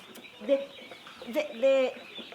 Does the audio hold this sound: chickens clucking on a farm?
yes